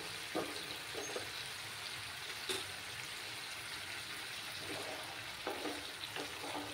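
Tomatoes fry in a pan for a Bengali pabda fish curry, giving a steady broadband sizzle with a few sharper scraping stirs at intervals, fairly close and moderately loud, with no talking.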